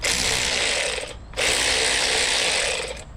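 A budget SEESII cordless ratchet whirs loudly in two bursts, a harsh buzzing run, a brief pause, then another longer run.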